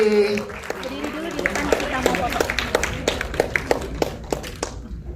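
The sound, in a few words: audience applause at a film press conference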